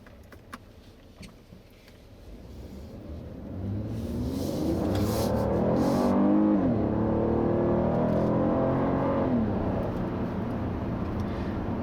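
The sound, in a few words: 2017 Buick Lacrosse 3.6 V6 engine driving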